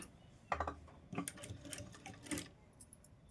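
Sewing machine stitching a hook strip for a katori blouse, a short, faint run of close mechanical needle clatter in a few quick bursts, without talk.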